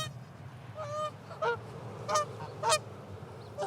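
Geese honk outdoors, several separate loud calls spaced a second or so apart over a low background hum, fairly near and with no talking.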